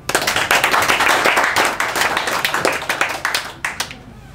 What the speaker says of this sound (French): Applaudissements pour Ibou Ndiaye.